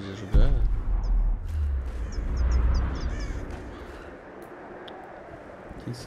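Crow-like birds give a short series of sharp, repeated caws at middle distance over a low rumbling ambient bed, with a voice speaking.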